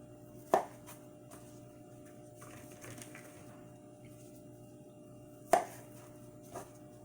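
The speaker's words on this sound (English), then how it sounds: "Cherries, I'm just going to take the knife, cut it, spin it around." A knife cuts through cherries on a board in a kitchen, with two distinct crisp chopping knocks a few seconds apart and a softer tap after, quiet and close.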